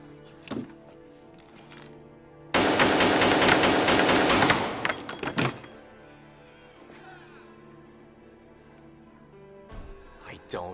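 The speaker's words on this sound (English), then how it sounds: "So where did you learn to shoot like that?" Rapid burst of gunfire in an action movie scene, loud and dense for about two seconds before it breaks off into quieter ambience, with a sharp thump near the end.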